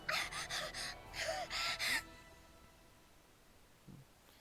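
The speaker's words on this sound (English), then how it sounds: "I roughly gasp for air, panting like a dog, helplessly enduring the unceasing waves of pain." A visual novel character gasps for air in pain, several sharp, breathy gasps in quick succession, then a pause and one faint breath near the end.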